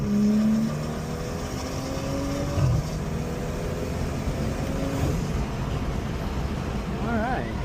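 BMW with an N55 engine and water methanol injection pulling hard under acceleration, a steady engine drone with rising tones that runs the whole way and a brief shift near the end, while people talk over it.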